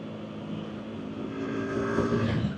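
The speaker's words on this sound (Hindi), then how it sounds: "फुल इंजन ब्रेकिंग चल रही है हमारी।" A motorcycle engine braking on a downhill stretch of a hill road between Delhi and Badrinath, a steady, moderately loud drone with rushing wind that swells slightly toward the end, no voices.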